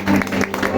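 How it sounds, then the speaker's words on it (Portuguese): Church congregation clapping for Jesus during a Wednesday evening worship service, a brief burst of applause with a steady hum of voices and room sound underneath. "E as palmas ao Senhor Jesus."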